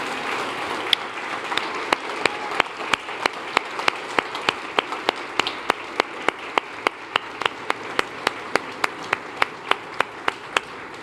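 A Spanish-speaking church congregation claps in unison to praise the Lord, a steady rhythmic beat of about three claps per second sustained throughout, moderately loud over a soft wash of room noise.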